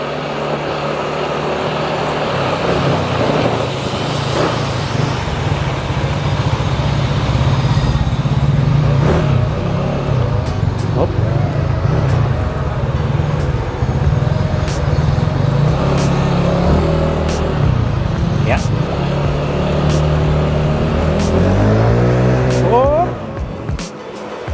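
Heavy, loaded delivery motorcycle with a 63.5 mm big-bore build and 19/22 head combo drones steadily while riding, with a rough continuous engine tone throughout and someone talking over it.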